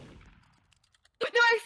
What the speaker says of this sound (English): you want me to troll Randy really quick and shoot him